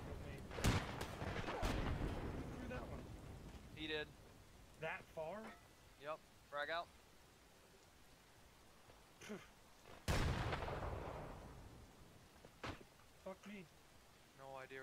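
In the Escape From Tarkov video game, a frag grenade explosion and gunfire sound as two loud, booming blasts about ten seconds apart, with sharp shots and squad voices between them.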